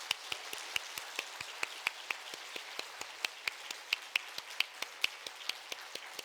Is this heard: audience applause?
yes